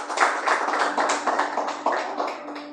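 A church congregation claps in a fast, even rhythm, with many hands striking together in repeated bursts that are loud and close, and no talking over it.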